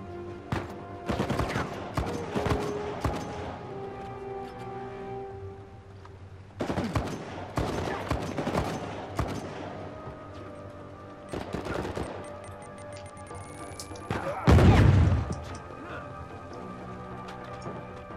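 Gunfire in Uncharted 4: bursts of rapid shots in clustered volleys separated by brief pauses, with a loud heavy blast near the 15-second mark and faint game ambience between.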